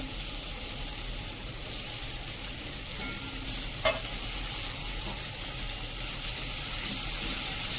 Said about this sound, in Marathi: आणि आता ह्या भाज्या सगळ्या व्यवस्थित अशा छान परतून घ्यायच्या.